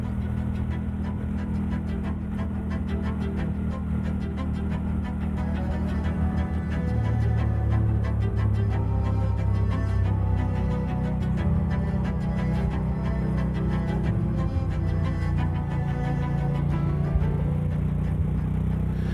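A brand new motorcycle cruising on a long ride, its engine holding a steady low drone with a rising note partway through and wind rushing over it, no voices.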